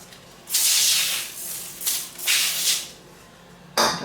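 Cooking spray can spritzing while baking, a few loud hissing bursts close up, one long spray followed by two shorter ones and a final quick burst, with quiet pauses between.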